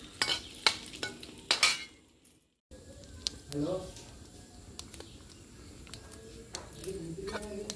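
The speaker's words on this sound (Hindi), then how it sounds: "तो ये हम तेल में जीरा और हींग डाल दिए हैं" Oil crackles and spits as cumin and asafoetida hit the hot pan, with sharp clinks of a spoon against metal and a brief quiet gap midway.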